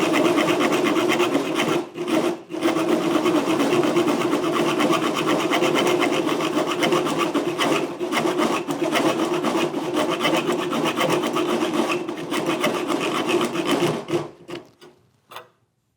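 A LENOX folding jab saw fitted with a Sawzall blade rasps steadily through wood in continuous close, loud back-and-forth strokes, briefly pausing once before tapering off at the end, with no talking.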